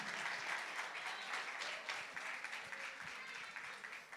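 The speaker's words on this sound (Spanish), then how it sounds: "aplauso" A crowd at a singing contest semi-final breaks into sustained, fairly distant applause, an even wash of many hands clapping without pause for several seconds.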